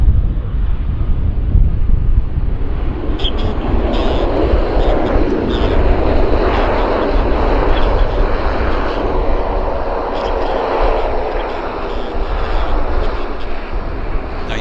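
A WestJet Encore turboprop taxis on a taxiway at Vancouver Airport, its engine drone steady and close for the whole stretch, with gusty wind rumbling across the microphone.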